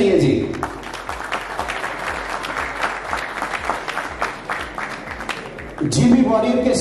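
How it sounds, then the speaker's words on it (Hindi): A crowd at a shirt launching ceremony for a Markhor Super League season 2 team claps steadily in dense, sustained applause, with a voice over a microphone near the end. "ताली होनी चाहिए जी।"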